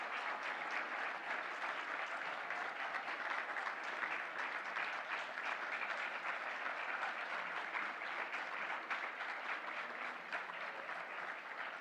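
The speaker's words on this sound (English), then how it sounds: "Round of applause again, please." An audience applauds a Golden Apple Award winner, a primary school teacher, at an awards ceremony, with continuous even clapping that carries on at moderate loudness for about twelve seconds.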